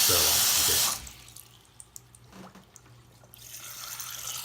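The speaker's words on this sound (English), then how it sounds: "It's flushing the water." Water flushing through a LiquaGen 5-stage RODI filter unit, a loud steady rush that drops away after the first second, leaving faint trickling and drips before the hiss builds again toward the end.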